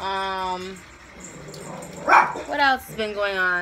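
A dog barks a few times in the background while a person talks over it.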